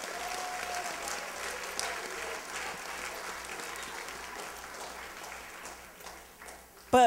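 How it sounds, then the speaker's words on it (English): An audience at a Black History program applauding, a sustained wash of many hands clapping from across the room, steady and fairly loud, fading slightly before a brief louder burst at the end. "Let's give him a round of applause."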